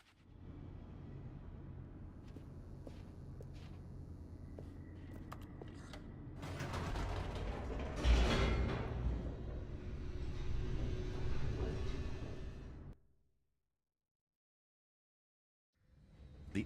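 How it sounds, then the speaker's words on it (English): An elevator descends in The Stanley Parable, a low mechanical rumble with creaks and clanks that swells into a louder rushing roar, then cuts off abruptly into silence. "The elevator raced downward, plummeting towards an unknown fate."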